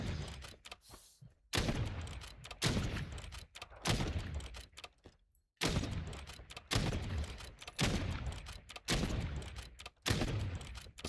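Black Ops 7 gunfire from a slow-firing gun comes as repeated loud bursts of shots with thudding impacts, each volley about a second long and separated by short pauses.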